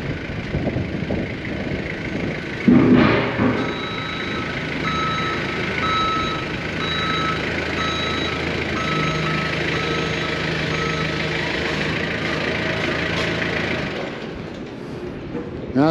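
A service truck at a construction and earth-moving equipment yard sounds steady reversing beeps over a low engine rumble for a long stretch, with faint background voices.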